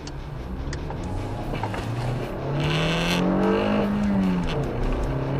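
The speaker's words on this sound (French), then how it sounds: "heureusement que j'ai une voiture qui a un tout petit peu de reprise" A car engine revs up and accelerates, its pitch climbing steadily, then easing off as the vehicle gathers speed close by.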